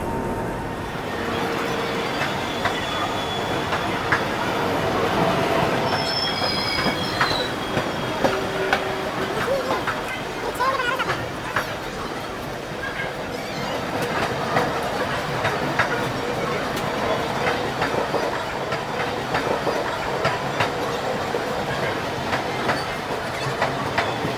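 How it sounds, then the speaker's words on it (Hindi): Lichchhavi Express train pulling out of Chhapra Junction railway station in Bihar, with steady rumbling wheels, clickety-clack over rail joints and occasional squeals, heard from inside a coach with faint voices in the background. "बिल्कुल ऑन टाइम अपने डे का डिपार्चर हो चुका बिहार के छपरा जंक्शन रेलवे स्टेशन से"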